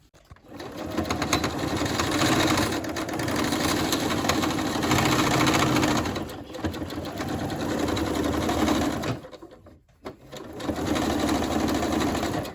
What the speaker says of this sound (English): Now we're going to be stitching this top of the hat